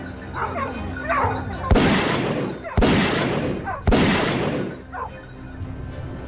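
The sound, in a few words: gunfire during wild boar hunt on farm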